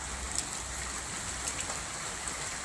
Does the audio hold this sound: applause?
no